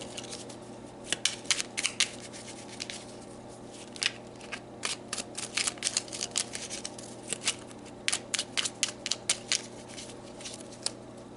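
Tarot cards being drawn and handled produce soft crisp flicks and riffling taps in irregular clusters, close and fairly quiet over a faint steady background hum.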